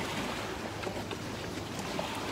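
Gentle waves from a passing boat's wake lap and splash against a shoreline in a continuous wash, with soft wind noise and no voices.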